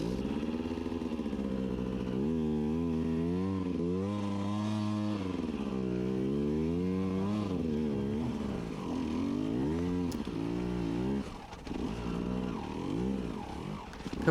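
A 2021 Beta 200 RR two-stroke dirt bike engine runs steadily and close by, its pitch rising and falling with repeated revving throughout, with no talking over it.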